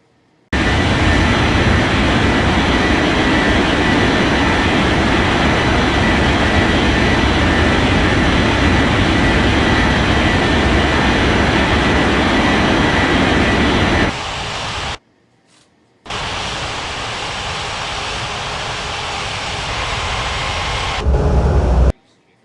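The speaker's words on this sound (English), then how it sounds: "Atlas Air 43905, cleared for takeoff runway 14 left" Airliner jet engines roar at takeoff power in an Unmatched Air Traffic Control video game, a loud, steady broadband rush lasting over ten seconds, breaking off briefly before a second sustained roar.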